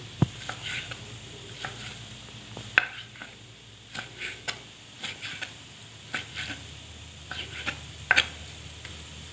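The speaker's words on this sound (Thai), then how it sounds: "จัดการหั่นเนื้อค่ะพี่น้อง" Irregular knife cuts slicing beef on a board, soft and close, with occasional sharper taps and a faint hiss in the background.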